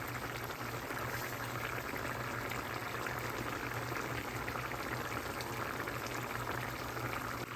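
A pot of tomato curry bubbles at a steady boil, a soft continuous hiss and burble with no voices, fairly quiet and close.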